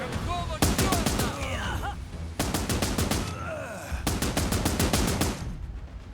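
Rapid bursts of gunfire and cannon blasts sound in the war game Last Train Home, repeating in several loud volleys over a constant battle din, with voices shouting beneath.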